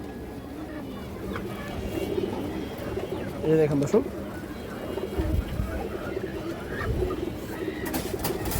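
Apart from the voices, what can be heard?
pigeons cooing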